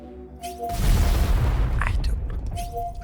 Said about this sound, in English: Now someone's close enough to shoot at me